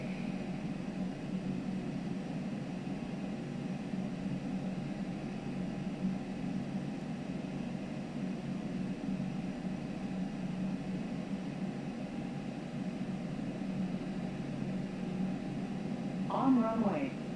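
An Aerosoft A330 in the Prepar3D flight simulator sits at Dubai runway 30 right, producing a faint, steady low jet-engine drone that holds unchanged for the whole stretch, with a short brighter sound near the end.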